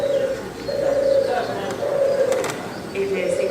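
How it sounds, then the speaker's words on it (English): A turtle dove on a wilded farm with water buffalo coos in soft, repeated purring phrases, fairly close and steady, with a voice speaking underneath. "It is the sound of the turtle dove."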